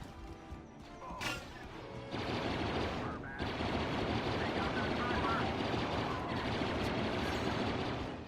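Gunfire and crashing blasts in the video game Star Wars Battlefront II, a dense rattling barrage that starts after a quieter opening and carries on steadily, with a voice talking faintly underneath.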